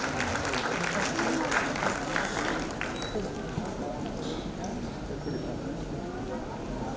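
An indoor audience applauds to welcome a woman onto the stage at a ceremony, a steady, dense patter of many hands clapping that holds throughout, with a voice speaking over it.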